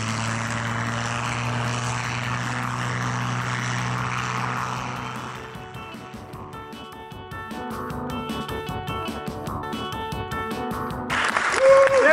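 A Supermarine Spitfire flies over during a drag race against a Range Rover, its propeller engine droning loud and close before fading, then building again, with cheering and crowd noise beneath.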